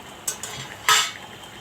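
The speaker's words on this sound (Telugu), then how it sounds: "ఒకసారి కలుపుకుందాం." Thick chicken gravy stirred in a pot, a metal spoon scraping and clinking against the side in a couple of quick close strokes, with a soft sizzle behind.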